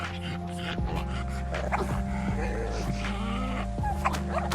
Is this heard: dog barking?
yes